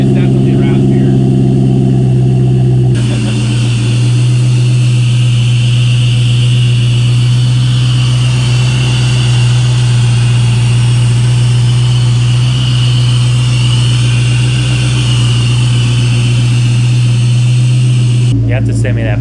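Supercharged 3.8 Whipple engine revving after a cold start, a loud steady drone with a raspy exhaust and high supercharger whine, held close and continuous with a brief rise at the start and end.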